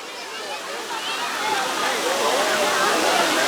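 A waterfall roars in a dense, continuous rush close by, with sloshing and splashing where people play in the water.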